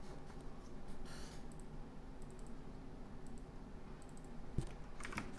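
Quiet typing on a computer keyboard while coding, soft irregular key clicks coming in small clusters over a low steady background hum, with one sharper tap near the end.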